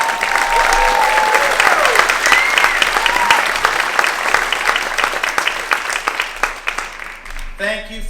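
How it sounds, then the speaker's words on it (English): A talent-show crowd gives loud, sustained applause for healthcare heroes and first responders, a dense roar of clapping with a few cheers that thins out near the end as a voice comes back in. "I'd like to hear some applause for all the healthcare heroes and first responders"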